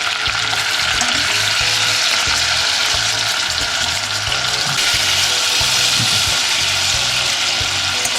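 Berries, melted butter and sugar are stirred in a pan on the fire, making a loud steady sizzle with repeated low scraping strokes from the spoon in a regular rhythm throughout; nobody speaks.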